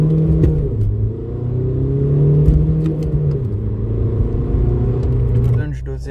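A 1.9 TDI diesel car accelerates from a standstill to 50, the engine note rising through gear changes with a close, steady rumble before easing off at the end.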